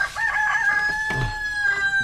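Chickens cluck and a rooster crows close by, with a sustained crow over scattered clucks and farmyard noise, no talking.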